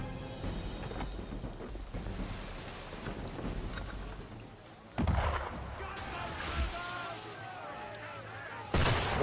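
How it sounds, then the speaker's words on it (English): Gunfire from a ship in the video game Assassin's Creed 3 bursts out as heavy booming blasts, with a few sharp loud reports over a rushing, rumbling background. "Why is he shooting at us?"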